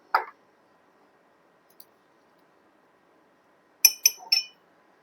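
Ingredients for a moisturizer being mixed in a glass container, heard as a faint scrape at the start and then a quick cluster of three bright glassy clinks near the end, with near silence between.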